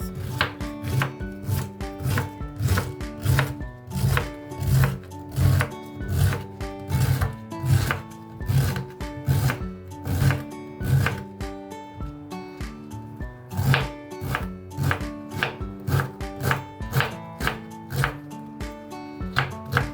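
A knife chops cabbage on a wooden board in a steady, rapid series of close, crisp strikes, pausing briefly before the cutting resumes, with no talk.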